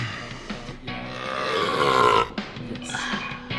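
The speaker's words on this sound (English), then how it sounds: "Chapin gives a very real burp." A single long, loud, drawn-out burp from a girl, rising and wavering for a couple of seconds before trailing off, close to the listener.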